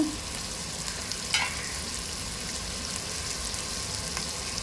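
Mutton masala with chopped tomatoes and curd frying for a dhaba-style mutton bhuna, giving a steady, close sizzle with a faint stirring scrape, no voices.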